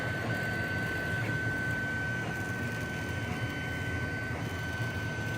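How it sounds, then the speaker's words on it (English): A 3D printer running a long job on an M1911 handgun model gives off a continuous, even mechanical whir and hum with a steady high whine, close and unbroken, with no voices. "This has been printing since like 10:30 p.m. last night"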